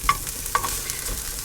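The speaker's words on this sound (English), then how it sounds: "So I'm just frying up some onions to make them quite crispy for when the rice is done." Onions fry until crispy in a pan inside a motorhome, giving a continuous sizzle with two sharp stirring clicks of a utensil early on.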